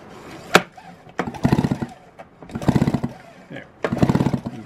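Repeated rapid rattling pulls of a small engine's starter cord during a spark test, three quick ratcheting bursts separated by short pauses, close by, with a voice briefly present.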